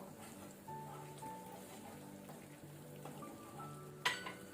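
Paneer butter masala gravy bubbles gently in a pan over a low to medium flame, a faint, steady simmer with a soft clink near the end.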